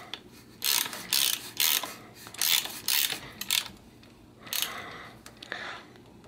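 A hand tool works a bottom bracket on a bicycle crankset being converted from cottered to square-taper cranks, giving repeated ratcheting, scraping bursts in uneven groups against a quiet background, close by and alone.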